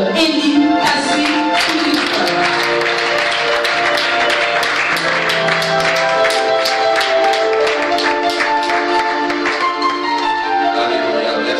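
A church congregation claps and cheers in unison for a long, steady stretch, loud and close, with voices and hand claps blended together in a dense roar.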